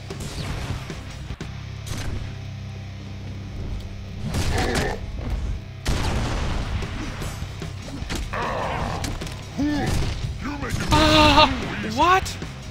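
Rocket launcher blasts and explosions in a Deadpool video game fight, with heavy booms, crashes and clattering impacts arriving in irregular bursts, mixed with game sound effects.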